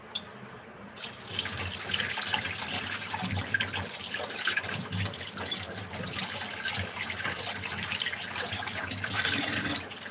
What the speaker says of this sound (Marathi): ही बाटली धुवून घेणार आणि धुवून आत्ताच घेते